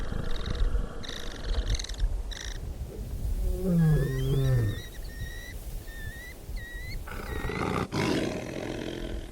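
Lions in the wild Okavango give deep, rumbling roars and growls mixed with thin whistling wildlife calls, loud and continuous over a dense outdoor background with no speech.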